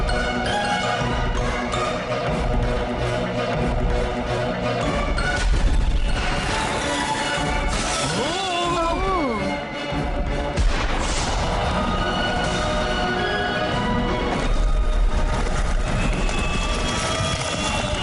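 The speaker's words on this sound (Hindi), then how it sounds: "अब आतिशबाजी का शानदार कार्यक्रम देखो।" Loud, continuous barrage of animated-film fireworks: booming explosions and crackling bursts, with whistling rising tones mixed in, dense and layered throughout.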